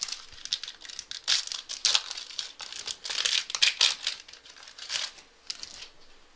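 A 2014 Topps Prime football trading card pack is torn open by hand, with close, crisp crinkling and tearing of the foil wrapper in quick irregular bursts over several seconds, no voices.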